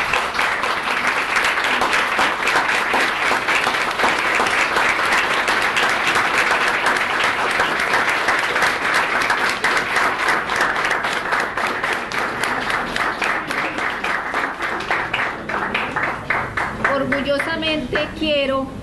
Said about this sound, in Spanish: Para ustedes es el aplauso